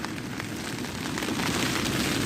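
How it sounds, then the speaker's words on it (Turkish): A storm drives rain and wind against a camping tent at Anamur, making a dense, steady hiss and patter that swells slightly toward the end. No voices are heard. "Bir fırtına çıktı dışarıda ya."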